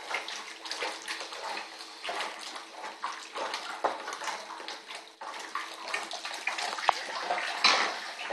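Liquid poured into a fermenter while being stirred during home brewing of a Coopers European Lager, giving a steady splashing, gurgling pour with uneven surges and small clinks, fairly close.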